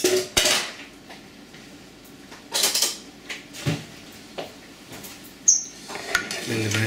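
Cutlery clinking and scraping against a dish while carrots are mixed, irregular close taps and stirring scrapes with quiet gaps between them.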